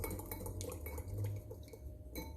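Sponge cake batter with sugar and condensed milk being stirred in a bowl, a spoon or whisk clinking steadily against the sides in continuous close scraping and tapping, no voices.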